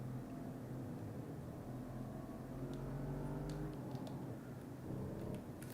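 A 500 horsepower turbocharged SUV engine in the Assetto Corsa racing game, a steady, moderately loud engine hum that rises in pitch and then eases off, with light clicks near the end.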